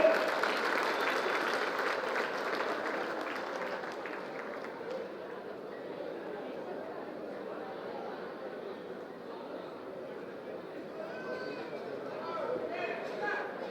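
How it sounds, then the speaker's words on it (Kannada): Loud applause from a large crowd, dense and continuous, easing off a little after the first few seconds but carrying on steadily to the end. "ಜೋರಾದ ಚಪ್ಪಾಳೆ"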